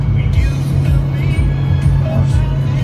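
A 2006 Ford F-350 pickup with a turbocharged engine hauls 18,000 pounds on a 40-foot gooseneck trailer up a mountain grade, a loud, steady low engine drone from inside the cab, with someone talking over it.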